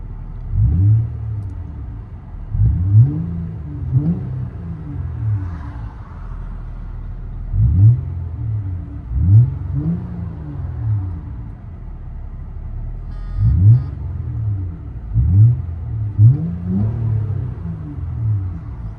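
Inside a 2007 Acura TL with a 3.2L V6 and deleted mufflers, the exhaust drones as a deep rumble, swelling in repeated rev blips, three groups of two or three pulls, over a low idle with no one talking.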